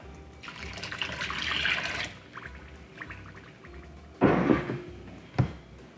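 Warm water pours into a punch bowl holding sugar, a close liquid splash lasting about two seconds, followed by quieter trickles and a final short gush.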